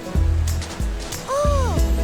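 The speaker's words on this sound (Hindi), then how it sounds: "देखो ये लहरें लहरें लहरें आ रही है कितनी तेज" Ocean waves surging toward a beach in a children's animated song: repeated rushing swells beneath a sung melody, loud and up front.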